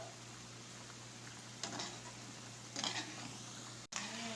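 Aloo pakoras fry in hot oil over medium heat, a faint steady sizzle and bubbling with a few brief louder crackles and a clink near the end.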